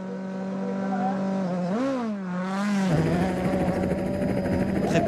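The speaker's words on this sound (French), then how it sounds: "La voiture part très très vite" A WRC rally car launches from a special stage start in Sweden on studded tyres. The engine rises to a high rev, sags briefly, then surges again into hard acceleration, heard from the car's surroundings without speech.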